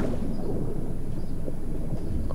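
A thunderstorm in the video game Star Wars Jedi: Fallen Order, a continuous heavy low rumble with wind and rain noise, loud and unbroken, no talking.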